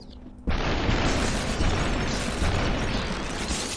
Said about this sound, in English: So when you use this assault rifle, it's like a four-shot burst.